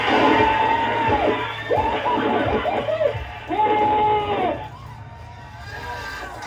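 A room full of people in a mission control room breaks into cheering, whoops and shouts in several loud bursts right after a touchdown is confirmed, fading toward a calmer murmur at the end.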